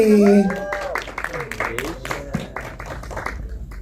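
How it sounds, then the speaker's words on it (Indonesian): Scattered applause at a film press conference, a brief burst of many people clapping in uneven rhythm, following a presenter's voice and continuing under further talk. "Tepuk tangan untuk Kisha."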